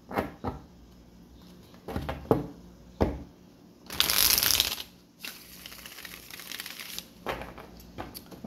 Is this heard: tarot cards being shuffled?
yes